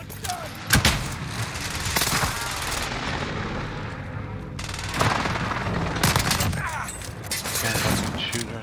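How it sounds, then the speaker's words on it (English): Airstrike explosions and gunfire on Rebirth Island in Call of Duty Warzone, with loud booming blasts near the start and again around the middle, mixed with continuous battle noise. "Airstrike target right here."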